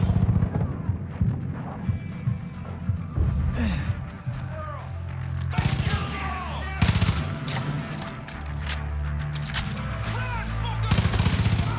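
Gunfire erupts during a firefight in Far Cry 5, with loud bursts of rapid automatic shots and heavy volleys coming in waves over about twelve seconds, mixed with gasps and heavy breathing.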